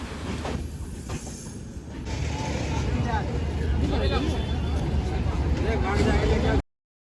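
A train rumbles and clatters through New Delhi Railway Station, wheels squealing faintly, with a crowd murmuring and voices talking over the steady rolling noise.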